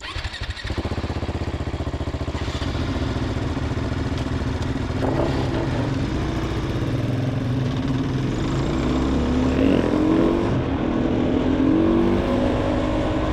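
A Husqvarna off-road motorcycle engine runs close by, revving and droning steadily with rising pitch sweeps as the throttle opens.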